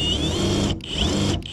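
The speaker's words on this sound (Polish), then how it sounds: "Na pewno dużo wygodniej się od góry wierci niż od dołu" A power drill bores down through a bus roof from above, a steady high whine running in two long bursts with brief pauses between them.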